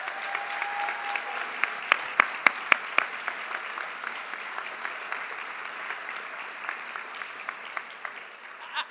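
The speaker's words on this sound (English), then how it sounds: "Can we thank them with our applause?" Audience applause at a university student leadership awards program, a steady wash of many hands clapping at moderate level, with a few sharper, louder claps standing out near the start and the clapping holding evenly for about nine seconds.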